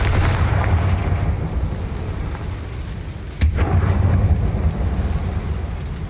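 A Confringo fire spell bursts in Hogwarts Legacy inside a closed, tomb-like mine, a sharp loud blast cutting through a steady low rumble that rolls on heavily afterward.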